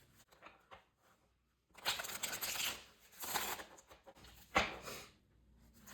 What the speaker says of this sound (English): I'm just going to shuffle this really quick.